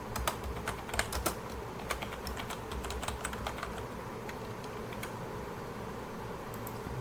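Code typed on a computer keyboard in a VB.NET practical session: a steady run of close, crisp key clicks, busiest in the first seconds and then lighter, over a faint fan-like hiss.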